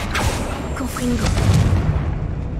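A Confringo fire spell blasts in Hogwarts Legacy, a low booming rumble that swells mid-clip amid busy game effects, with someone talking over it throughout.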